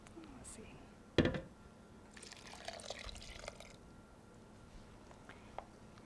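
One cup of white wine vinegar poured into a container: a sudden close splash, then a soft, muted trickle of liquid for a few seconds in a quiet room.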